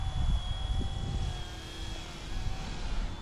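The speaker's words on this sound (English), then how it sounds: "The helicopter is making its way back to me." A small RTRHobby C186 Max ready-to-fly RC helicopter flies outdoors, its rotor and motor giving a steady thin whine with faint tonal lines that hold through the whole stretch, moderately distant and without talk.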